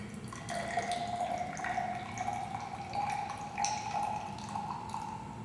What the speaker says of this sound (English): allow the water to flow until it again stops dripping